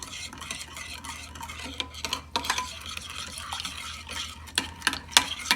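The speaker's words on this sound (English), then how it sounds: "I'm going to go ahead and give it a stir" A spoon stirs yeast and sugar into a liquid mixture in a bowl for smoked herring pizza dough, giving steady scraping, clinking strokes close up with no talk.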